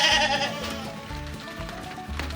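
Goats living in abandoned ruins bleat insistently while searching for their owner, their calls mixed with steady rain falling nearby, repeated cries rising over a continuous wet patter.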